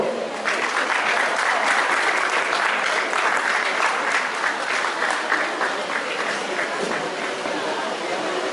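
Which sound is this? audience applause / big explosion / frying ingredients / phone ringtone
audience applause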